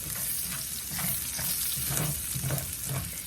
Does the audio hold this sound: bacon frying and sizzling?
yes